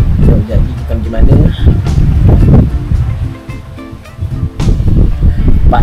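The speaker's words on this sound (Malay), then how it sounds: "Angin kuat, okey lah." Strong wind buffeting a balcony on Tioman Island, heavy rumbling gusts roaring close against the microphone with brief lulls, voices talking faintly underneath.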